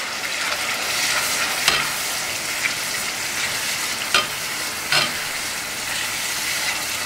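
Schezwan sauce made with tomatoes frying in a pan as it is stirred, a constant close hissing sizzle with a few sharp scrapes and knocks of the spoon.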